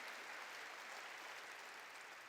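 A church congregation applauding steadily, a dense wash of clapping from many hands that holds even and continuous throughout, with no voices standing out.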